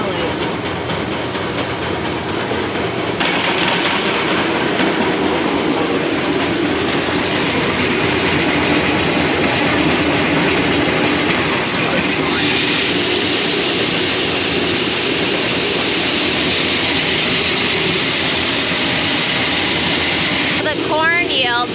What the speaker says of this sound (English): There's our leg power, so I just kicked that on, and then the pit is the auger